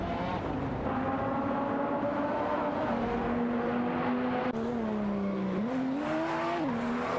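Dodge Viper SRT and Lamborghini Murcielago SV racing head-to-head in a video game, a loud steady engine drone rising and falling in pitch through gear changes, with faint tire squeal and no talk.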